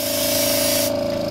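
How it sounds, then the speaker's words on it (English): A loud, steady hiss of spray paint jets from a can onto an Air Jordan Retro 13 sneaker, continuous and close, with the high part of the hiss cutting off near the end. "Go ahead and let that first spray come out."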